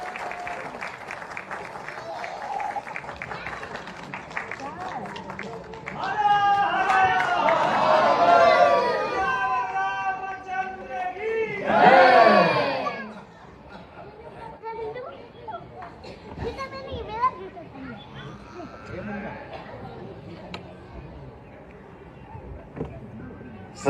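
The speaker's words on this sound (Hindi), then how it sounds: "जोरदार तालियों से उनके स्वागत करिए" A crowd at an award ceremony honoring a singer and actor claps throughout, swelling into loud cheering and shouts midway, then settling back to scattered clapping under chatter and talk.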